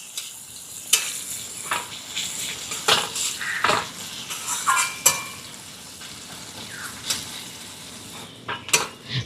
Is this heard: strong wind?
no